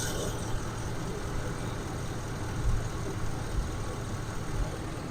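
A 2014 GMC Savana 4500 box truck with a 6.0-litre V8 idles steadily, a low even rumble holding level throughout with no revving.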